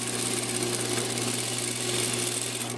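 A sewing machine stitching a shirt seam at a quarter inch, giving a continuous fast mechanical whir and a steady hum that sound close and even throughout.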